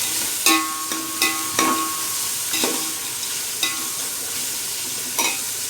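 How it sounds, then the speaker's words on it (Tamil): Onions sauté in a pan for chicken biryani, a steady bright sizzle broken by several sharp spoon taps and scrapes spaced about a second apart, close and loud. "வெங்காயம் நல்லா வதங்கட்டும்."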